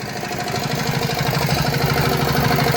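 A Giriraj Agro nano mini tractor engine runs steadily at idle, a low rhythmic chugging throttle with a faint knocking pulse, close and continuous throughout.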